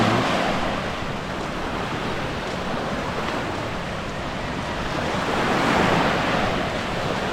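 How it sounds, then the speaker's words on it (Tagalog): Sea waves wash steadily onto the beach at Aplaya in Digos City, a loud continuous surf roar with wind buffeting the microphone and no voices. "Ito guys ang dagat."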